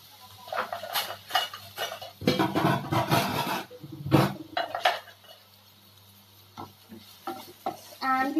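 Onions stirred in a hot pan with spluttering cumin seeds make repeated bursts of spoon scraping and clatter against the metal over a soft sizzle, with quieter pauses between rounds of mixing.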